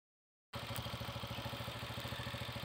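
Motorcycle engine starts abruptly after a short silence, then runs steadily at a close, loud idle with an even, pulsing chug and a faint rattle.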